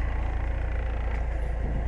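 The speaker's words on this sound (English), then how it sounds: "Exhaust sounds okay." A 1987 Porsche 944's exhaust rumbles steadily at idle close by, a low, even drone with no talking.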